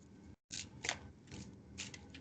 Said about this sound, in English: Queen of Cups tried to flip out of my deck as I'm shuffling